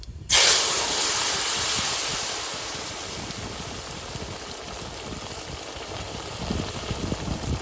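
Dried chilies and nigella seeds land in hot oil, bursting into a sudden loud sizzle that starts abruptly and settles into a steady frying hiss, close by, with no speech.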